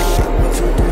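A spray gun lays a candy blue top coat onto a Blue Beetle cosplay helmet. It makes a short, close, continuous hiss lasting under a second.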